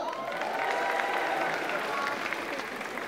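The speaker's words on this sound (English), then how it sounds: "clap it up" Comedy club audience at a stand-up show clapping and cheering, a dense wash of hands and crowd noise with faint voices mixed in, steady and fairly loud.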